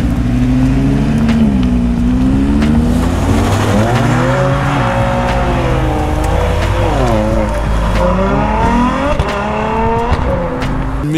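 A Renault Mégane RS drives past with a loud, steady engine drone whose pitch climbs and dips repeatedly as it revs and shifts, continuous throughout with no talking.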